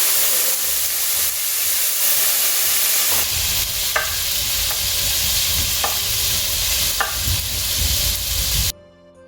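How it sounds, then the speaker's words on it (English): Fresh tomatoes go into a hot pan with garlic for a tomato pasta sauce, a loud, dense, steady sizzle with a few sharp utensil clicks, ending abruptly. "So I'm just starting to throw some of these tomatoes in here."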